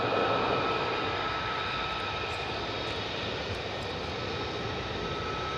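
F-15 jet fighters passing over RAF Lakenheath, a loud, continuous broadband engine roar that stays sustained and steady throughout, with no voices.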